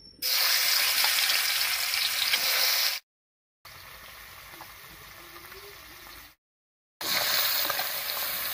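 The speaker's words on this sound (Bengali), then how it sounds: "কড়াইয়ে সরষের তেল দিয়ে মাছগুলো হালকা করে ভেজে নেব" Small mixed river fish frying in mustard oil in a hot wok give a steady, close bright sizzle, broken by two short silent gaps and a quieter stretch before the full sizzle returns.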